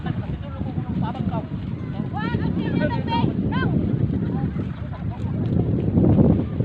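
Blustery wind roars and buffets the microphone with a low rumble throughout on a beach, while people talk and birds chirp in the background.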